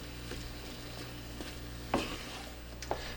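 Apples coated in a butter-sugar mixture cook in a pan with a steady, close sizzle, broken twice by sharp utensil taps against the pan.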